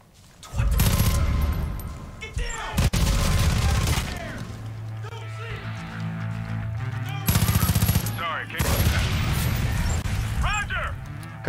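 Heavy gunfire in Far Cry 5 comes as repeated loud bursts of rapid automatic shots, with breaks between volleys and busy game noise underneath.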